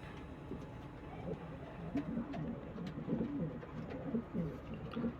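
Low, soft coos of Anara pigeons roll on steadily beneath a hum of background noise, with scattered faint clicks and rustles.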